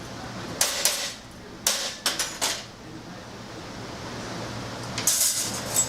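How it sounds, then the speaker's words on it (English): A hammer striking a metal weld block to close it up in a hot rod shop, about seven sharp metallic taps in two clusters with a quiet pause between, fairly close over faint background hum. "And I take a hammer and kind of close it all up."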